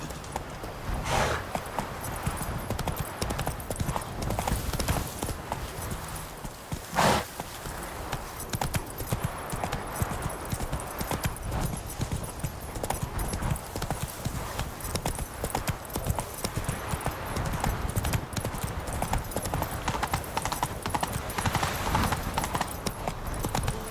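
Roach the horse running hard in The Witcher 3, a long dense stream of rapid clip-clopping hooves that stays loud and steady throughout, with a brief thump midway.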